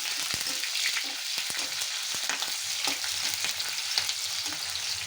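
Chopped onions frying in a pan with bay leaf, a continuous close sizzle broken by repeated sharp scraping and clicking strokes of a spoon stirring.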